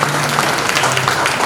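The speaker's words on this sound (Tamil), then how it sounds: "கைத்தட்டி தேவை நன்றி சொல்லலாம்." A church congregation claps together during a Sunday sermon, a steady dense patter of many hands filling the room for the whole moment, with a faint low hum beneath.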